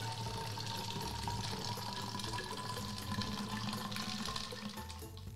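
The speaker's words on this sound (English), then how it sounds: "So you fill it up." Vinegar being poured into a homemade bottle rocket, a steady continuous liquid pour and splash into the bottle held upright on its launch pad, close and fairly quiet, with no voices.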